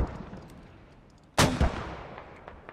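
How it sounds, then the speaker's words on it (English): Airstrike in the military shooter Squad at Gorodok, a single sudden distant boom midway with a quick second thump right after, fading into a low rumble over quiet background hiss. "Airstrike finally coming in from the Russians onto the US HAB."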